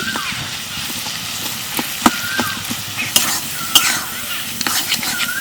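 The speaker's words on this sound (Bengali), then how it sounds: "এই যে সিদ্ধ করে রাখা আম আর কচু পাতাটা দিয়ে দিচ্ছি ভালো করে মিশিয়ে নেব" Boiled mango and taro leaves stirred into fried prawns in a pan, a loud close sizzle with repeated sharp scrapes and knocks of the spatula against the pan.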